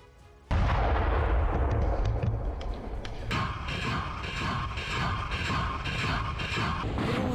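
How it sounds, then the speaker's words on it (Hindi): Loud, sustained roaring rumble from a BM-21 Grad multiple rocket launcher firing rockets. It starts abruptly after a quiet moment and carries on as a dense, continuous barrage with rattling mechanical texture. "BM-21 ग्रैड MLRS से ताबड़तोड़ रॉकेट डाले गए।"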